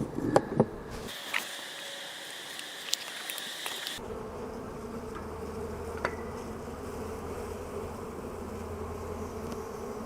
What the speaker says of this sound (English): I moved over here away from the mass of bees